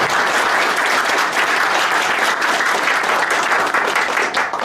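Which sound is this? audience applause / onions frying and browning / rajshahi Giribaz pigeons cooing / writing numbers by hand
audience applause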